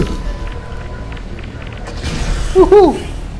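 An explosion in the VR game Half-Life: Alyx, a muffled boom with a brief rising whoosh, followed by a short warbling electronic tone over low background rumble.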